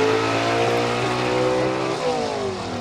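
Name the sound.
gasser drag race car launching off the line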